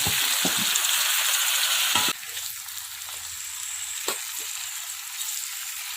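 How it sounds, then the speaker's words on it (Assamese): Chopped cucumber hits a hot pan with turmeric and sizzles loudly. The hiss drops to a softer, steady frying sound, with a few stirring clatters and no talk. "এতিয়া মই ইয়াত কাটি লোৱা তিয়হখিনি দি দিছোঁ।"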